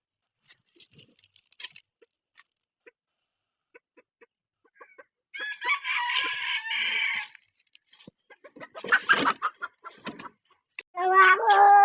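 A hen and a rooster in a village household: loud crowing bursts and harsh, clucking calls break in after several seconds of quiet scattered clicks, with no voices.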